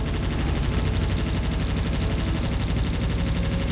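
Rapid automatic gunfire in the PS2 game Global Defence Force rattles on without pause, a loud, dense stream of rounds in a fast, even rhythm filling the whole stretch, with no voices.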